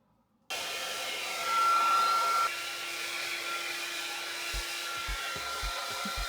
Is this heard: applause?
no